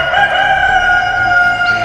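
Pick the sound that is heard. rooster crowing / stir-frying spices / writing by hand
rooster crowing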